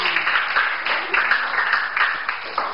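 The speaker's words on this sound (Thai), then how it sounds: "ปรบมือให้ตัวแทนผู้ชายหน่อย" An audience claps together in steady applause, a dense crackle of many hands with slight surges, fairly close and loud throughout.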